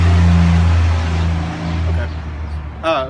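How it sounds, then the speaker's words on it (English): A truck drives past outside, its low engine rumble loud at first and then fading as it moves away, with a brief voice near the end. "let the truck go by"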